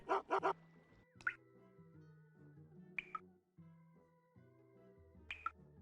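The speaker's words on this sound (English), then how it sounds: "If I tell you I have a dog here, you might not believe me." A dog gives several sharp, separate barks and yips close by, scattered over a low, tonal game-music background.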